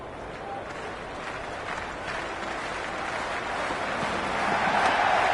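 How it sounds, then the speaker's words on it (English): A cricket stadium crowd roaring and cheering before the first ball is bowled, a dense, continuous wash of voices and applause that swells louder toward the end. "The crowd are making a heck of a lot of noise even before the first ball's been bowled."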